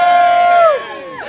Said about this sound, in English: Big cheer for McLaren Honda.